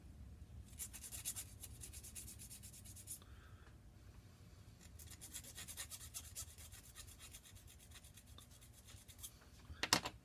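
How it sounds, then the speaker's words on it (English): A metal file works burrs off a small photo-etched part for a plastic scale model, giving close, dry scratchy rasping in bursts with short pauses, quiet overall. "We'll take Mr. File. You can even hear when the burrs are gone."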